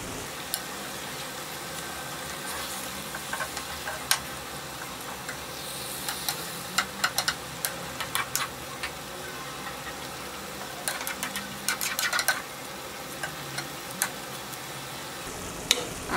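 Hilsa fish fry in a pan with a continuous close sizzle, crackling and popping in scattered bursts over a steady hiss for the whole stretch, with no voices.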